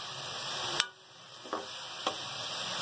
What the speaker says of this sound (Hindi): तेल के साथ कीमे को फ्राई कर लिया है